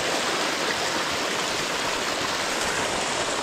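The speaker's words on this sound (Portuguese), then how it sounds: "Que tanta água, né? A força da água aí." Heavy rainwater rushing in a stream on a ranch during a storm, a loud, steady broadband roar of churning water that stays constant and close throughout with no break.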